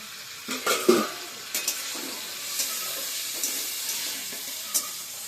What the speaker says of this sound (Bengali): আলুটা ভাজা হচ্ছিল